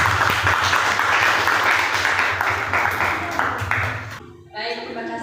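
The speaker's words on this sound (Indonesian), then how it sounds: "Beri aplaus untuk kelompok." Audience applause for a presenting group at a classroom discussion session, broadband clapping that runs steadily for about four seconds and then drops off.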